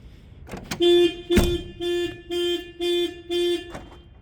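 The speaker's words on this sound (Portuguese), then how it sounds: "O carro vai até disparar o alarme." A car alarm on an Opel Corsa or Meriva goes off nearby, sounding six loud, evenly spaced horn blasts after a couple of clicks from the door lock.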